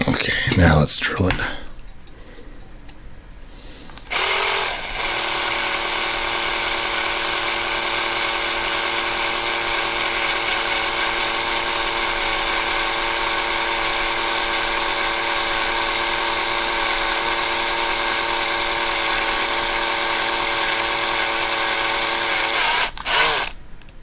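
An electric drill bores a hole into a Buzz Saw Hordak toy, a sustained, close-up high whirring that runs nearly twenty seconds after a few brief clicks and knocks, stopping abruptly near the end.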